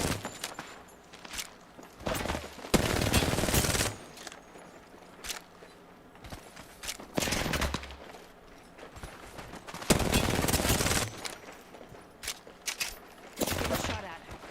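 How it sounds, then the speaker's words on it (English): Gunfire in a shooter video game comes in several loud bursts of rapid shots separated by quieter gaps, with softer footsteps and movement between the volleys. "Opening fire."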